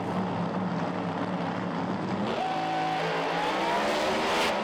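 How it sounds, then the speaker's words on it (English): Pro Mod drag racing car, a Firebird, roars down the strip at Santa Pod Raceway during a run, a loud sustained engine rush with rising tonal whine partway through, no talk. "Nick flies on through with the Firebird again to a 6:25, 2:36"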